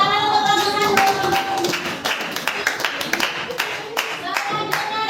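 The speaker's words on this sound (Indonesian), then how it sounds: "Tepuk tangan untuk kelompok satu." A classroom of sixth-grade children breaks into applause for the first group, a burst of clapping and taps that thins over a few seconds under some chatter and voices.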